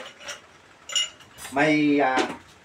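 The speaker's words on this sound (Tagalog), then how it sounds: "Lagyan ho natin ng ice." Ice cubes drop into a glass of Jack Daniel's and soda: a few light clinks, then a brief ringing clatter of cubes against glass, close and fairly loud, with faint voice-like tones around it.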